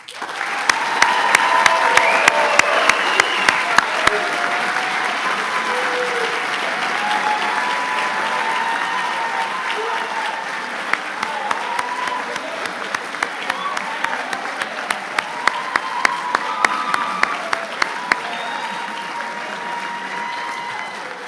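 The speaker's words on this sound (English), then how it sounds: "Please join me in another round of applause for all of our graduates." Sustained applause from a crowd honoring graduates at a military warrant officer graduation ceremony, steady and loud throughout with scattered sharper claps standing out.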